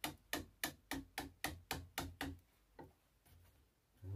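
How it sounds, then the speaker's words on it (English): A hammer taps a stuck metal pin on a BSA Lightning motorcycle in a quick, even series of about eight sharp strikes, then a few slower, softer taps follow. "Get some taps on it with a hammer."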